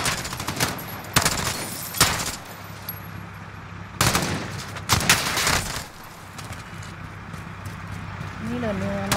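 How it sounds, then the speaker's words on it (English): Bursts of automatic gunfire and single shots from Call of Duty: Modern Warfare crack out in quick, loud clusters, with voices talking over the battle. "Wait, who the fuck is shooting still?"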